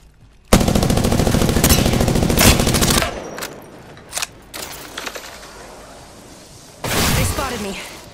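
Rapid automatic gunfire rattles loudly and close in Apex Legends during a firefight, a sustained burst followed by a few scattered shots and another burst, with a voice talking over parts of it.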